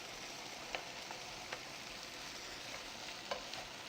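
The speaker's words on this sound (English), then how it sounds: "Keep stirring, keep moving everything around in the pan and allowing all those vegetables to take on a bit of colour and to start to soften." Red onion and mushrooms stir-fry in a pan with a steady, faint sizzle, broken by a few light clicks of a utensil stirring, with no talking.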